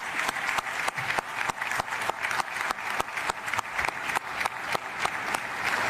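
Audience applause at the FIFA 47th Ordinary General Assembly for the CAF general secretary, a sustained patter of many clapping hands with sharp individual claps standing out, steady and fairly close throughout.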